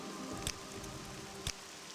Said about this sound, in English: Now you can just enjoy the sounds of the rain in Morrowind land.